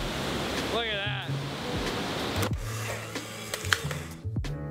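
Loud, steady rushing water like a waterfall fills the scene as a broad, constant roar, with a few brief clicks and knocks over it.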